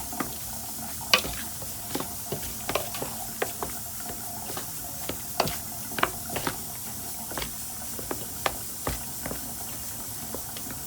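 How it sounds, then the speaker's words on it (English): Seasoned ingredients with garlic powder and fresh seasoning are mixed by hand in a bowl for a Jamaican-Trinidadian Sunday lunch, a steady run of soft scraping, squishing strokes with occasional sharper clicks, no voices. "So we mix."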